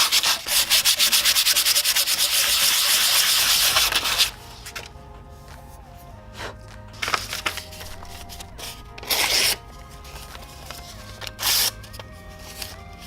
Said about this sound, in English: Now I'm gonna sand off all the caca with some pretty light grit sandpaper.